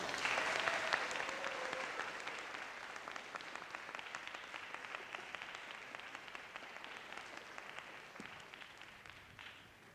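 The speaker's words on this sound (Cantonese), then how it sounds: "我哋俾啲掌聲出嚟。" A church congregation applauds after a prayer at a baptism service. The sustained clapping is fairly far off and gradually fades over ten seconds, with no talk over it.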